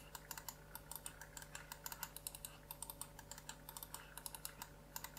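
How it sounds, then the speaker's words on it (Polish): Side buttons on a Roccat Kone XP Air wireless mouse clicked in quick succession, crisp semi-firm clicks repeating in an irregular rhythm close up with no talking. "Taki półtwardy klik."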